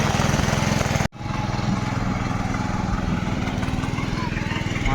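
A tractor ploughing a flooded rice field in the Konkan region, its engine droning steadily with a pulsing rhythm, close and fairly loud, briefly cut by a sharp break before resuming.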